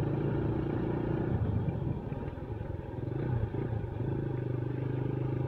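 A 2008 Yamaha Scorpio 225 motorcycle engine runs steadily with a rough, uneven idle, its low rumble and light clatter holding at close range throughout with no one speaking.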